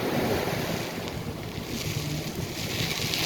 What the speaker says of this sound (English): I have to bicycle when the waves are abating, going down.